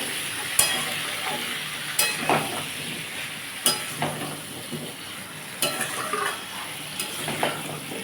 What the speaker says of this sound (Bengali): আমি এই তেলের মধ্যে আলু আর কুমড়োটা দিয়ে দিয়েছি এবার এটাকে আমি ভালো করে ভাজবো